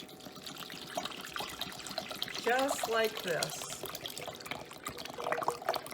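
Apple cider vinegar at 5% acidity pours into a pot for mustard pickles, a gurgling liquid stream under a speaking voice, with splashy trickling throughout.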